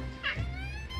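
A pet cat gives a single short, clear meow close to the microphone, with a quiet room hum behind it and no talking.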